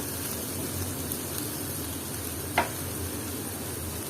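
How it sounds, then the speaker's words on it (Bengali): Ground spices with a little water, including cumin, fry in a pan for a dried loitta shutki (Bombay duck) and jackfruit-seed bhuna as they are stirred. A steady close hiss runs throughout, with one sharp scrape or clink midway. "এটাকে আমি আবারও নেড়ে চেড়ে দিচ্ছি"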